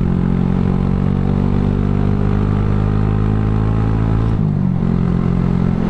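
A Honda Grom MSX125 motorcycle fitted with a cheap Chinese aftermarket exhaust idles and revs with a steady, close, moderately loud rumble, with a brief dip in the engine note near the end.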